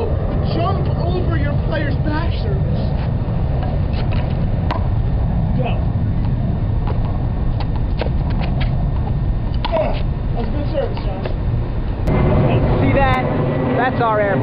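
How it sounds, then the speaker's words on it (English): An airplane flies over, a steady low engine drone filling the whole stretch and swelling slightly near the end, with people talking over it. "that's our airplane. We told him to fly over here right now"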